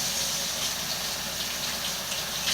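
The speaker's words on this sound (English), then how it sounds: "letting it drain down into the pan while the water's still running" Tap water runs steadily and drains down into a pan at a kitchen sink, a continuous close splashing gush with no pauses and no voices.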